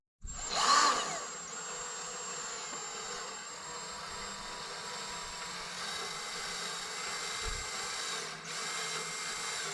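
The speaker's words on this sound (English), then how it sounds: "take your drill and you want to drill into the holes" A power drill with a 3/8 adapter whines steadily and fairly loud, with a brief surge at the start, then holds a constant high-pitched drone.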